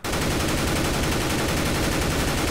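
Sustained automatic rifle fire in the first-person shooter CS:GO, a loud, unbroken rapid burst of shots with no talk over it.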